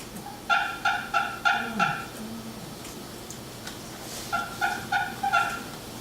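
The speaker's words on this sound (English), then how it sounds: "the first sound they make in the morning is called a tree call, which is a real low," Wild turkey hens give soft tree calls in the early morning woods, two runs of quick yelps, about five notes each, separated by a pause, moderately close and subdued with no talking.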